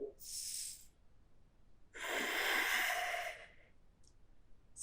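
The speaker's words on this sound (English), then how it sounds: "Find a place you can be for 5 deep breaths." Deep breathing in a morning yoga session: a short exhale, then a long, strong breath sighed out close to the microphone, followed by a brief faint puff.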